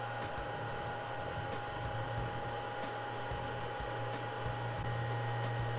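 A 3D printer air scrubber with carbon and HEPA stages runs its fan with the HEPA filter removed, giving a steady, close whooshing hum with a constant tone that holds unchanged throughout.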